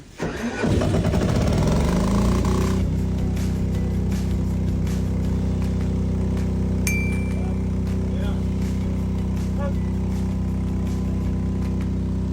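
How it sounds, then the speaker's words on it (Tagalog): A backup generator kicks on automatically through a transfer switch, cranking briefly and then settling into a loud, steady engine drone that runs on without pause, with voices talking over it. "Dapat mabubuhay yung ating generator. Tapos mag-supply na power sa automatic."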